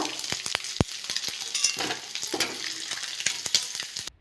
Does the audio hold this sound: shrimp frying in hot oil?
yes